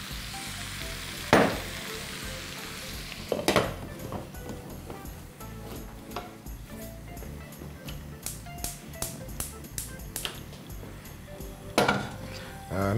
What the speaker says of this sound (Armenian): Մյուս տապակի մեջ բուսայուղով կտապակեմ